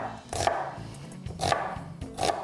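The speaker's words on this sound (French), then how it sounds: "je vais hacher finement mon oignon" A knife chops an onion finely on a board for vegetarian almond and lentil rolls, landing three separate strokes about a second apart, each one a crisp, close thud.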